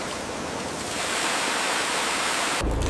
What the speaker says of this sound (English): Fresh water washes over the skin to preserve its meat quality.